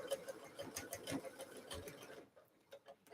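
A domestic sewing machine stitches a seam in quick rhythmic bursts of clattering needle strokes, close and fairly faint, then stops near the end with brief quiet.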